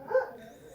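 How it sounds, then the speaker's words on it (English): A single short dog bark sounds faintly in the background, a brief muffled yelp. "I can hear your dog. That's a dog."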